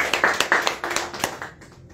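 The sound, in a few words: congregation applause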